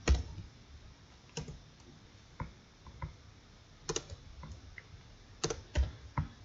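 Scattered clacks of a computer keyboard being typed on, irregular bursts of keystrokes with short pauses between them, close and clear.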